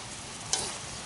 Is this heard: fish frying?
yes